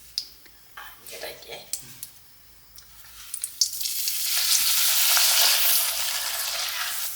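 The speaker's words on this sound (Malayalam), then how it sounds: "ഇനിയിപ്പോൾ അടുത്ത പണി പപ്പടം കാച്ചലാണ്." Pappadam dropped into hot oil bursts into a loud, bright sizzle that swells and holds, following a few light clicks and taps of preparation at the start.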